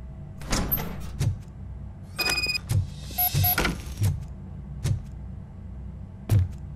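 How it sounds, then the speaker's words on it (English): Door opening in the video game Robocop Rogue City: a series of sharp mechanical thuds and clanks with a whirring slide and metallic hiss in the middle, loud and close, spaced irregularly over several seconds. "Now let me get that door open for you."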